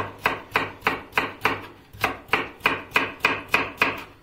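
Two carrots cut into thin julienne strips with a knife on a board, a brisk run of about a dozen even chopping taps, close and crisp with no one speaking.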